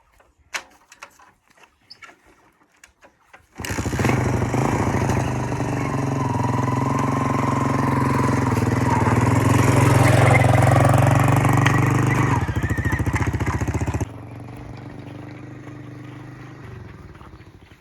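After a few faint clicks, a motorcycle engine roars up to high RPM and holds a loud, sustained whine for around ten seconds, then drops back to a quieter idle.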